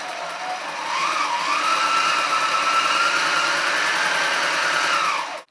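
Mini walking foot sewing machine stitching two layers of spandex, a steady motor whir running fast and even for about five seconds before stopping abruptly, close and alone.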